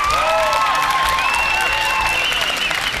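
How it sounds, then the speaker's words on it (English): An audience at a televised South African leadership competition applauds continuously, a dense close clapping with some cheering and whistles mixed in. "Round of applause for Jabulani Sibiya."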